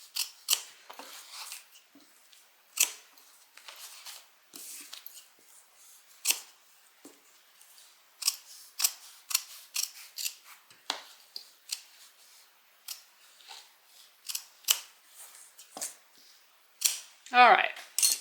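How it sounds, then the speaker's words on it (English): Large scissors snip through a sewing stitch on a hobo shoulder bag, producing crisp repeated clicks in uneven bursts over quiet background. "just cut the stitch with these big old scissors"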